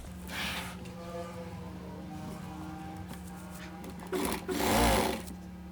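A sewing machine stitches button-up shirt sleeve panels together, running in a steady motor whir with a brief louder surge near the end, close by and without talk.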